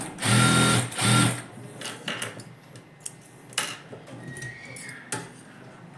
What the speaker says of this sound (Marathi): आता दाबटीप मारून घ्या.